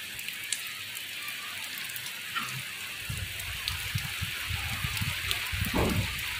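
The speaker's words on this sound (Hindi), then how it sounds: "किस किस के यहाँ बारिश हो रही है?" Light rain patters softly on a surface, growing a little louder with scattered drips and splashes toward the end.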